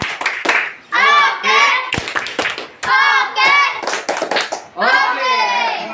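A sixth-grade science class joining in a rhythmic group clap to lift spirits: sharp, loud clap bursts in quick patterns alternating with children's voices chanting in unison, close and lively.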